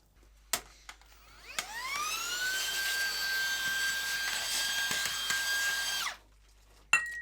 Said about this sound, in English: we'll put the K Ultra in and we'll put it down to espresso grind size just to see what these motors are capable of